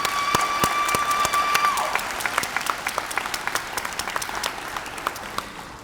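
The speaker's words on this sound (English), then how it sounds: "let's give a round of applause to our mothers" A graduation ceremony audience applauds, with clapping that starts dense and gradually thins out into scattered individual claps.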